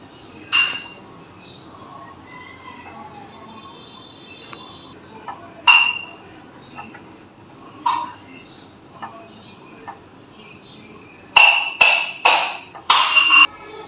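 A utensil clinks against a bowl while flour, salt, baking powder and sugar are mixed for donuts, giving sparse knocks, then a quick cluster of bright clinks near the end, with a voice talking between them.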